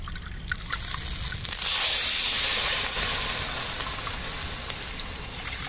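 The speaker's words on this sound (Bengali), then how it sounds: "এবার জল দিয়ে দেব।" Water poured into a pan to start sugar syrup for a pineapple sweet, a steady hissing stream that swells for about a second, then settles into a softer sizzle and trickle.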